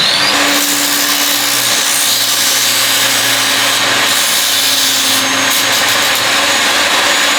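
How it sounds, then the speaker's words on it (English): A disc sander grinds fiberglass off a surfboard fin in a loud, continuous whirring drone with a steady motor hum and harsh abrasive hiss, holding close and constant without pause. "So probably the best way to do it, a disc sander. You can start it."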